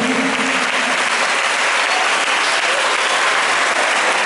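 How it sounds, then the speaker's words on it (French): Loud, dense audience applause at a family gathering, a steady wash of many hands clapping close by throughout, with no talk over it. "Il faut applaudir."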